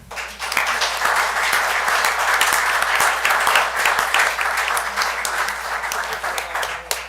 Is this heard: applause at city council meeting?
yes